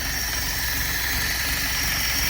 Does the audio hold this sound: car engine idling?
yes